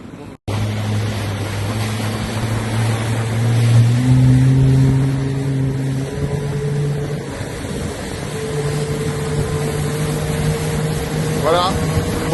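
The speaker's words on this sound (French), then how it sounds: "On est quasiment dans un certain silence, à part les bruits de frottement et le ronronnement du moteur" A WEENAV Kronos electric boat motor hums with steady tonal whines that shift pitch as speed changes, over a broad wash of water friction and wind, close and fairly loud, with a person talking over it.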